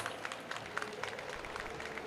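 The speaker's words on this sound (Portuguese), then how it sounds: "Salva de palmas." Audience applause at a stage session of a startup event, a short burst of steady crowd clapping with rhythmic peaks, fairly close and filling the whole moment without talk.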